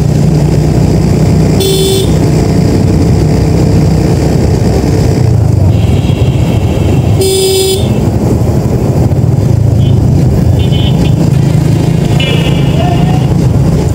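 A TVS Metro Plus motorcycle engine running loud and steady on the road, with the sustained drone cut by brief tonal horn-like bursts as fuel starvation makes it falter.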